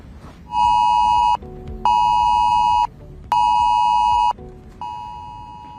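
A UK government emergency alert tone on a phone sounds loudly and steadily in three long pulses separated by short lower-pitched gaps, piercing and close, with a fourth pulse starting faintly.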